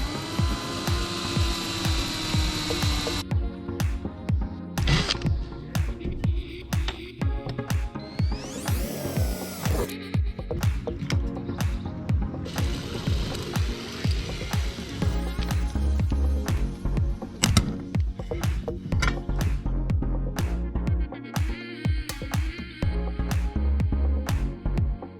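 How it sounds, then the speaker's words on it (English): Rapid, repeated metallic clacks and snaps from a riveting tool joining metal frame pieces for a van roof rack, steady and close, with brief pauses between bursts. "Now he's going to rivet them to there to make a little frame."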